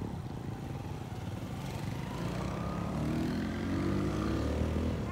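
Motorcycle riding on a rural road from Kityan Dako to Upper Mainit in Malungon, Sarangani, its engine droning steadily and rising in pitch as it accelerates, heard from on board against wind noise.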